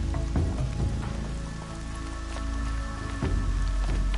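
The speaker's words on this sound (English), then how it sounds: "Rain's not so bad." Steady rain patters in the video game Horizon Zero Dawn, a continuous dense wash of drops with a few heavier splashes and low rumbles underneath, with no voices.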